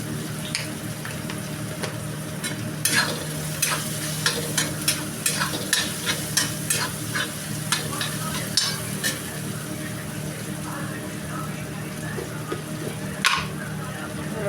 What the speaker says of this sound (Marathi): आणि छान परतून त्यामध्ये हळद घालायची